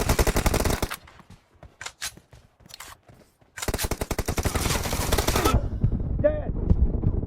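A suppressed QBZ rifle fires in PUBG Mobile: two rapid full-auto bursts of muffled shots, each about a second or two long, separated by a quieter gap holding a few faint clicks and in-game sounds.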